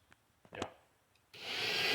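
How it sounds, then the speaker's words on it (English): An electric drill bores into the steel hood of a 1969 Camaro during repair work, starting after a few faint taps and bumps and then whining steadily and loudly to the end. "are you drilling my hood?"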